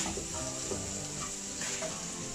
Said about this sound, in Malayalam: ഇതൊന്ന് പച്ചമുളക് മാറുന്നവരെ വഴറ്റാം